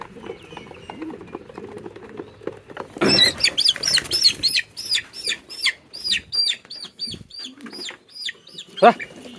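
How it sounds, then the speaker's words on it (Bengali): A chicken attacks a pigeon, the birds erupting with a sudden loud burst of flapping and scuffling, followed by a run of rapid repeated high chirps and clucks, with a voice speaking faintly at the start. "এটা কবুতরকে মারতেছে সে"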